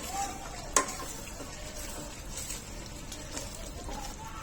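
Chicken for chicken biryani sautés in a pot with a steady, soft sizzling hiss and one sharp clink of a utensil against the metal.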